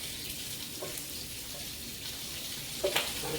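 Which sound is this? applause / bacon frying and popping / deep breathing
bacon frying and popping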